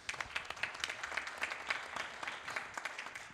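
An audience at a tech show inauguration applauds for a few seconds, with dense, fairly quiet clapping that holds steady throughout.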